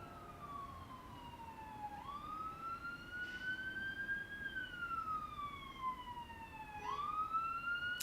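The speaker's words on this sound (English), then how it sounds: "Sorry for the ambulance." An ambulance siren passes outside, its wailing tone rising and falling in slow sweeps at moderate distance over steady background noise.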